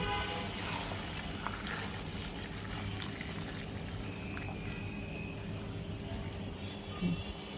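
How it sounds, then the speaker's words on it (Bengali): Milk that was boiled with cheese is poured into a pan of boiled pasta, a steady liquid pour and trickle heard close up with a faint background hum throughout. "এখন দিয়ে দেব চিজ দিয়ে ফুটানো সেই দুধটা।"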